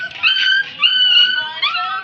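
Several puppies whine and yelp in high, drawn-out cries, close and loud, in three overlapping bursts that sound like little squabbling dogs.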